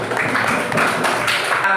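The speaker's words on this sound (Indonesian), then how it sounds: "kita kasih tepuk tangan yang meriah terlebih dahulu" A classroom of students gives a round of applause, dense continuous clapping close by that fills the whole stretch without a break.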